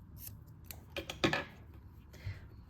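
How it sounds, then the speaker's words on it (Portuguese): Scissors snip through synthetic crochet yarn, a few quick metallic clicks and snips close at hand over a quiet room. "vou cortar este fio"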